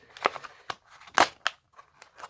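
Cardboard packaging for a toy Lamborghini Huracan being torn open, a series of close, sharp rips and crinkles in irregular bursts.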